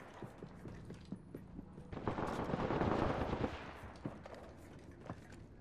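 Video game gunfire with a shooter trading shots: a steady run of sharp shots through the clip, building into a dense, louder burst in the middle before thinning back to scattered reports.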